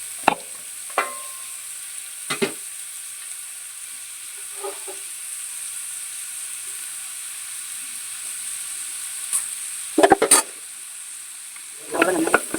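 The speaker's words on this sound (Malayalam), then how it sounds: "നമുക്കിനി അതിൽ സവാള ഇട്ട് കൊടുക്കാം." Onions drop into heated coconut oil in an uruli, a faint steady sizzle broken by a few sharp clinks and scrapes of a utensil, the loudest near the end, with no talking.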